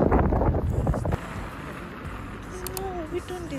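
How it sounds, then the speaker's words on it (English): Wind buffeting a microphone outdoors, heavy low rumbling gusts at first that ease into a steadier, softer rush. "It's still windy."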